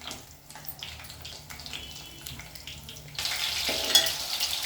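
Stuffed eggplant frying in a pan, a soft crackle that swells into a louder, bright hiss partway through, close and without talk.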